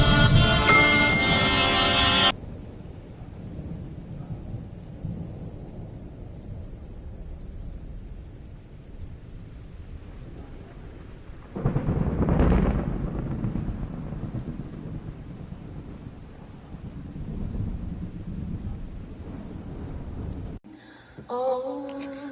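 Deep thunder rolls through a lightning storm, a low rumble swelling to a loud crack-like peak midway before fading back into a steady distant grumble, with a brief burst of music at the start and end.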